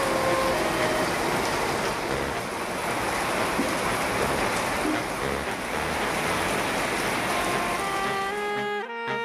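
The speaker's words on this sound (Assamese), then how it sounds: "বৰষুণে দিবা ধৰছি" Steady rain pours down outdoors in a dense, even hiss with no breaks, ending with a short tonal sound at the very end.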